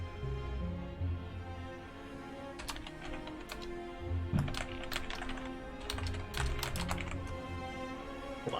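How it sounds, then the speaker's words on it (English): Rapid clicking keystrokes on a computer keyboard as a command is typed, bursts of taps with short pauses, heard close over a steady low background hum with no talking. "Hold on, I'm just typing out a new command here."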